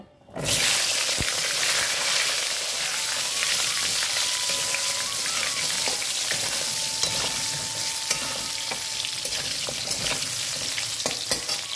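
Potato and pointed gourd (potol) pieces frying in hot oil in a pan, a loud, close, continuous sizzle with crackling pops and occasional scraping stirs that starts abruptly after a brief quiet moment, with no speech.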